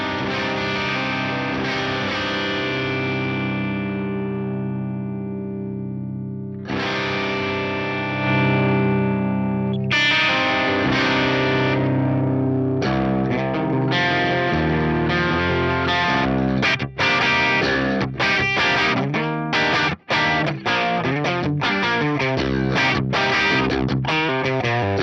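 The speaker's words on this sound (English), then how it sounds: "Matchbox D30 stock settings. Let's hear it." Electric guitar through an Axe-Fx III modeling a Matchbox D30 amp on stock settings, opening with long ringing chords that decay, then moving into busier driven riffs and choppy strummed phrases, loud and full with some distortion.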